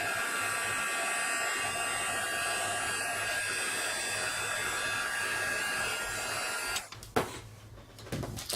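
A heat gun blows steadily while heating embossing powder on vellum for a butterfly embellishment, a constant close whirring hiss that cuts off near the end, followed by brief handling clatter.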